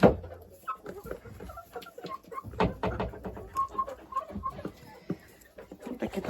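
Wyandotte chickens clucking inside a coop, with several hens giving repeated short clucks and soft calls at varying distances, some close and loud, with occasional rustling between the calls.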